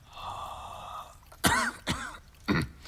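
A person coughs and clears their throat in a quiet room: a sustained throaty rasp, then three sharp, close coughs spaced about half a second apart.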